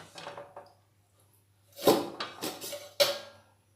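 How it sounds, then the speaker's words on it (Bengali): A spoon stirs sugar with four small cracked cardamom pods in a pan to melt it, giving a few close, sharp scrapes and knocks in short bursts with quiet gaps between. "এভাবে নাড়াচাড়া করে চিনিটা গলিয়ে নেব"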